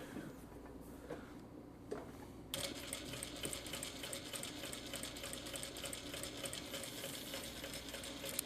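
An industrial Vevor M2 sewing machine stitches through eight stacked layers of fabric, starting after a quiet moment and then running as a steady, close, rapid mechanical chatter that continues without a break.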